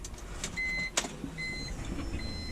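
AEM fuel pump priming in a BMW E46 M3: a faint, steady electric whine heard from inside the car, with a couple of short tonal hums starting and stopping and a brief click partway through.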